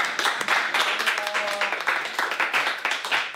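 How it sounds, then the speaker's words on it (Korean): Scattered hand clapping from a small group, set in a casual chat about cleaning-business earnings, steady and close for a few seconds with a brief tonal sound in the middle. "박수."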